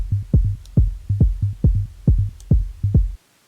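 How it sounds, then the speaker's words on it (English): A conga pattern side-chained to a kick drum, with reverb: steady low thumping hits roughly every half second, each pumping in and out, close and loud, ending abruptly. "Now I'm going to put a side chain on this conga from the kick, just so that my kick punches through."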